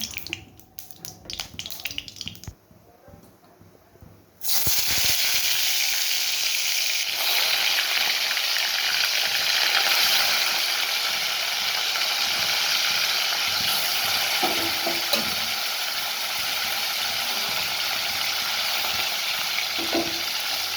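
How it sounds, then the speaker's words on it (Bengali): Seven or so bhola fish pieces rubbed with salt and turmeric fry in oil in a kadai: after a few quieter seconds of clatter, a loud, dense, continuous sizzle takes over and holds steady, with occasional small pops. "সব মাছগুলোকে আমরা একটা করে ভেজে দিচ্ছি"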